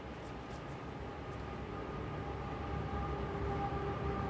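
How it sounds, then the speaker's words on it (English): Train rolling in nearby, a steady low rumble and rising rail noise with faint tonal whine, no talking over it. "Here's a train, right on schedule."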